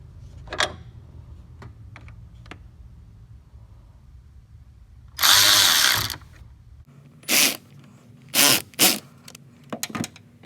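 A screw being driven in while reinstalling a Jeep Patriot/Compass battery hold-down, heard as a few short close bursts of driver noise separated by quieter handling clicks, with no talking.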